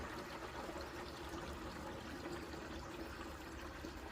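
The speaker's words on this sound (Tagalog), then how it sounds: "Ganito pa rin ang tagas ng tubig dito sa summer." Water from a natural spring source in Canada, flowing strongly in summer, pours and trickles in a steady, continuous wash of broadband noise with no voices.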